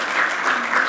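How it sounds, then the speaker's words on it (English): Applause in a church hall during an energy efficiency seminar, a brief dense wash of many hands clapping, steady and fairly loud throughout. "Give them a round of applause for all the work they've done there."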